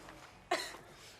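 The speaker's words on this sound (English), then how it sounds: "I just had something in my throat and had to cough it up" A single short cough from someone clearing something from their throat, a sharp burst that fades within a fraction of a second against a quiet room.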